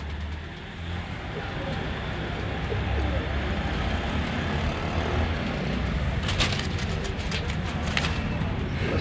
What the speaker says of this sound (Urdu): یہ ایک اور ریڈ آئس کبوتر ہے، کیسا شاندار کبوتر ہے